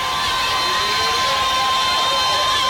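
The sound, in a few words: football stadium crowd cheering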